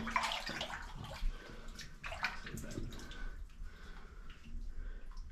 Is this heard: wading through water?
yes